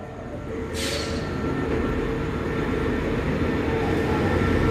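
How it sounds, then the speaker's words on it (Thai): A train rumbles steadily and grows slightly louder as it rolls into Rangsit railway station in Thailand, with a low continuous rail drone and a brief hiss near the start. "เข้าสู่สถานีรถไฟรังสิตนะครับ"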